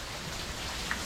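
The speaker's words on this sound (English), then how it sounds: "It is pouring." Heavy rain pours down during a hurricane at a beach house under construction, a dense, steady hiss of drops with one faint tick partway through. No one speaks.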